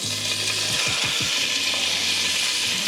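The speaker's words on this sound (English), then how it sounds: "now we're gonna go ahead and add up them cut up andouille sausages on in." Cut andouille sausage pieces fry in oil in a pot for a seafood gumbo. A loud, steady sizzle runs throughout, with a few stirring knocks early on.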